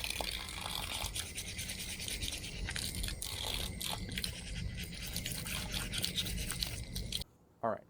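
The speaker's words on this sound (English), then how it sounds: "Now I need to go find a wire brush, and we're gonna go to the hose, and we are going to clean these things out." Scales of an old rusty knife scrubbed with a wire brush under running hose water, a close, continuous rasping brush stroke over a wash of water, then a brief stop and a final short scrub.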